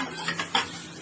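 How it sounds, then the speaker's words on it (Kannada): Chopped onions going into a pan for mushroom manchurian, a quick run of clattering and scraping with a faint sizzle, close and brief, no voices. "ಈಗ ಈರುಳ್ಳಿ ಕಟ್ ಮಾಡ್ಕೊಂಡಿರೋ ಈರುಳ್ಳಿ ಹಾಕೊಬೇಕು"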